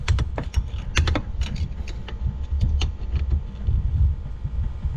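An 8mm socket turns and clicks against a bolt on a Ram 6.7 Cummins coolant riser, making a quick run of sharp, close ratcheting ticks over a low steady background hum.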